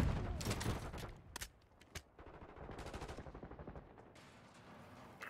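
Gunfire from a Call of Duty Black Ops 6 multiplayer match, with bursts of automatic fire and single sharp shots that come in clusters and then ease into a steadier, quieter rattle.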